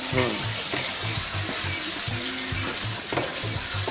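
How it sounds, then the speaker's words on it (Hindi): Small chicken pieces fry in hot oil in a kadai, giving a continuous bubbling sizzle close by while a person talks over it. "तेल गरम है, अब इसको हम डालेंगे, थोड़ा हल्का फ्राई करेंगे"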